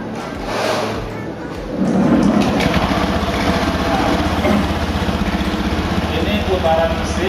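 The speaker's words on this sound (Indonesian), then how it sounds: "kalau mesin kita nyalakan" A scooter engine with a CVT transmission idles and revs, a steady mechanical drone with a rougher rise partway through, running close by without pause.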